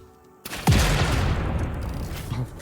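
An explosion in Satisfactory hits with a sudden loud boom, a brief whooshing sweep just before it, then a long rumbling, crackling decay that rolls on for about two seconds after a quiet start.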